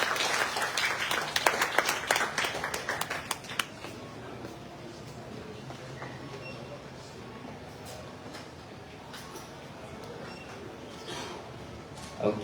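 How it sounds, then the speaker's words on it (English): Audience applause at a book launch in Eslite Spectrum, Malaysia, a burst of clapping for nearly four seconds that thins to scattered claps and murmurs of a small crowd, with voices talking in the background. "Please put your hands together for him"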